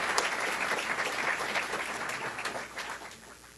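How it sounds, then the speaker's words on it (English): An audience at a New York State governor's budget event in Westchester County breaks into sustained applause, a dense, even roar of clapping that tapers slightly toward the end. "It's okay to applaud now."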